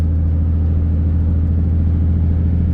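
Car cruising along a scenic road toward Packwood, a loud steady engine drone and low rumble from inside the cabin, continuous with no variation.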